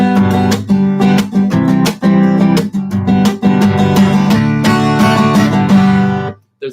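Bright, punchy guitar strums with a pick, loud and rhythmic with short pauses between chord hits, ending in a brief silence.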